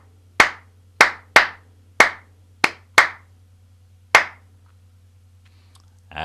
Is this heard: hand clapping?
yes